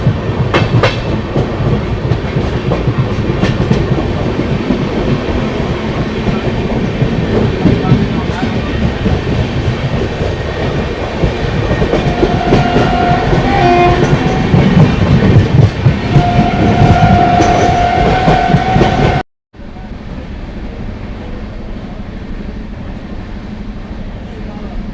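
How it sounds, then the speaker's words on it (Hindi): Packed 12180 Intercity passenger train between Agra Fort and Lucknow running steadily on its tracks, a continuous loud rumble with clickety-clack and occasional squeals from inside the coach; the noise cuts off briefly near the end, then resumes somewhat quieter. "ट्रेन पूरी पैक है, दिवाली आ रही है नज़दीक, लोग अपने घर जा रहे हैं तो बिल्कुल पैक चल रही है ट्रेन"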